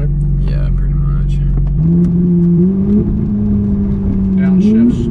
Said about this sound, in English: Downshifts. Downshifts. Sounds good.